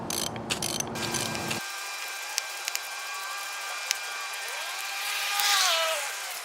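Bottle jack being cranked up to lift a fence post out of the ground, with scattered metallic clicks and ratcheting over a mechanical hum, close and moderately loud.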